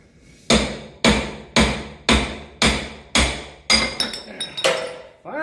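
Sharp hammer blows drive a front spindle bushing out of a Ford 671 tractor's spindle, about nine metallic strikes in a steady rhythm, close and loud, with several later hits ringing and clinking more brightly as the bushing loosens.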